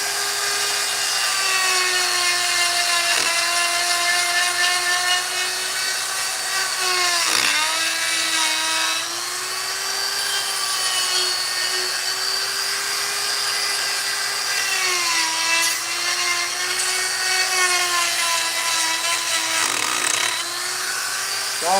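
A chainsaw whines steadily and loudly while carving wood for a finishing touch, its pitch dipping briefly a few times as the blade bites, running continuously throughout with no pauses.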